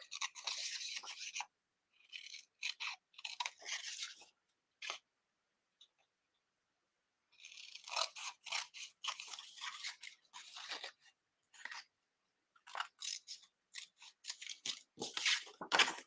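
Scissors snip through vintage book pages being cut into journaling cards, giving crisp, close snips and paper rustles in irregular bursts separated by brief pauses.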